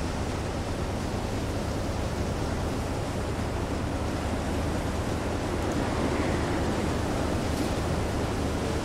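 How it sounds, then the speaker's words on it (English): Ocean waves in the submarine game Silent Hunter 3, a continuous dense wash of surf and wind-blown sea rushing at steady loudness throughout, with no voices. "Maybe by turning slightly we'll get out of the worst of these waves."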